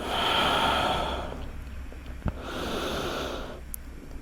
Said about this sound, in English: Breathing for 3